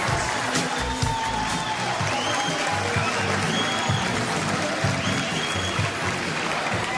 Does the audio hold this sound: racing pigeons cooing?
no